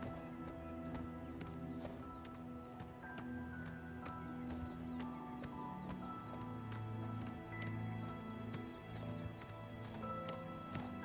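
Horse hooves in the Oblivion Remaster game clop along in a steady, repeated galloping rhythm, soft and somewhat distant, over a layered musical and ambient backdrop.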